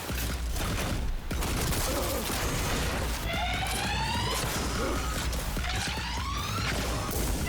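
Chaotic gunfire and combat din in Cyberpunk 2077, dense crackling bursts mixed with crashes and rising electronic whines, continuous and loud throughout.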